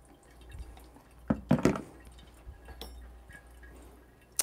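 Water poured from a kettle over ground coffee in a pour-over brewer, a soft trickling that swells in short bursts near the mic, with faint drips and clinks in a quiet kitchen.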